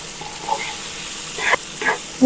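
Baby bitter gourd fry being stirred in a pan, a steady sizzle with a few scraping stirs standing out, close and alone.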